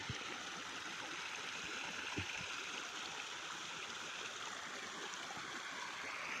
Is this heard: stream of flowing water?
yes